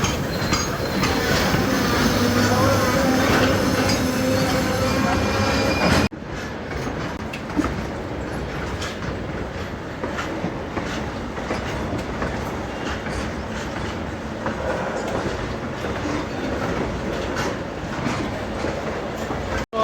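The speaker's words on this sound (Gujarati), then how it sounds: "આપણી ટ્રેન આવી રહ્યા ગુડ્સનું પેરેલલ થઈ ગયું છે." A goods train runs on the rails alongside a departing passenger train at Rajkot Junction, its loud, rumbling wheel clatter steady at first, then shifting to a quieter, continuous rolling rhythm.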